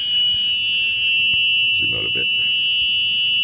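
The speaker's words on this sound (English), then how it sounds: "Okay, the reverse does beep." Reverse warning beep of an EZGo golf cart that won't move, a steady high electronic tone sounding continuously throughout, with a brief spoken remark partway through.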